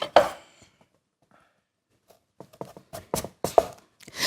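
A knife trims carrot and radish on a cutting board, giving one sharp chop, a quiet pause, then a quick run of crisp close knocks and cuts, with no speech.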